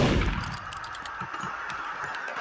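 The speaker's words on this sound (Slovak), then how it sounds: "Ako mi zase strieľa." Gunfire in the Roblox game Murder Mystery 2: a loud opening burst followed by a run of rapid, sharp metallic shots at steady pace, close and dense, with no voices.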